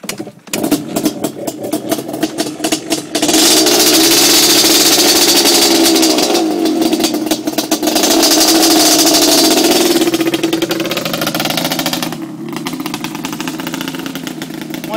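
A 1990 Yamaha Banshee ATV engine runs loud and close, idling briefly before revving hard in long sustained pulls, then easing back and rising again, with no talking over it.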